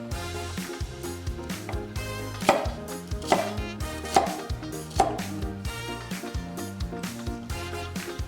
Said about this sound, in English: The next step is to cut the vegetables.